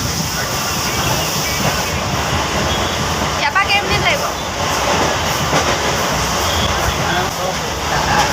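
Steady rumbling rattle of a moving train throughout, with a brief clatter midway and a voice speaking over the noise.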